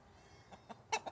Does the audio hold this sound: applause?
no